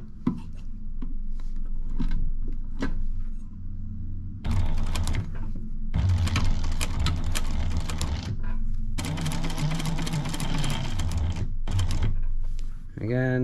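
A sewing machine stitches a zipper pouch in loud, close bursts of rapid mechanical whirring separated by short pauses, with a person talking over it.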